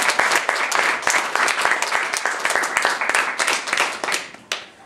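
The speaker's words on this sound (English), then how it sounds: "let's hear a big round of applause for all of you" Audience at a student education conference applauding: steady, dense clapping from a sizeable crowd, close and loud throughout, tapering slightly near the end.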